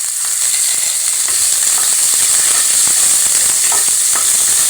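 Steady loud sizzling of onions and curry leaves frying in hot oil, close up, with occasional crackles and pops and no talking.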